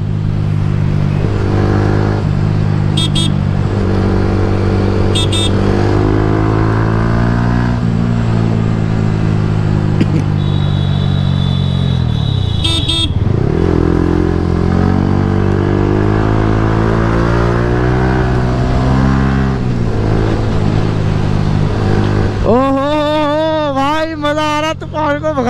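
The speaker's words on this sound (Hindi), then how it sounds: "तो अपने साथ दूसरी है ये वाली हीरो होंडा, जो है CBZ न्यू एक्सट्रीम।" A Hero Honda CBZ Xtreme motorcycle rides at night on Delhi roads, its engine droning steadily and close throughout, with shifts in pitch as it speeds up and slows, and someone talking over it.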